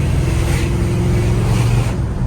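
1972 Chevrolet C-10 pickup truck engine accelerating on the road, a loud steady low rumble with road and wind noise that carries on unbroken throughout, no voices over it.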